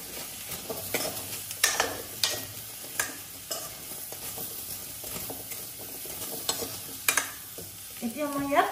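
Potato curry with red chili being stirred and mixed in a frying pan, a spoon scraping in uneven strokes over a steady background sizzle, close and moderately loud, with no talking.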